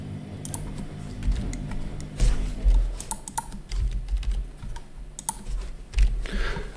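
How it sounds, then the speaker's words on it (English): Grades are typed on a computer keyboard, with a rapid, close run of soft key clicks and a low hum underneath. "I'll just type in a grade here."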